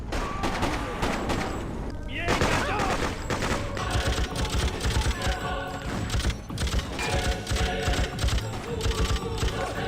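Rapid bursts of gunfire crackle continuously in a dense, loud barrage, with sharp repeated shots layered over one another and voices mixed in.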